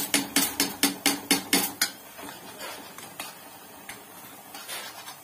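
A spoon scrapes and knocks against a kadhai while halwa is stirred with desi ghee, starting with about eight quick, evenly spaced metallic clanks, then settling into softer, steady scraping and an occasional tap.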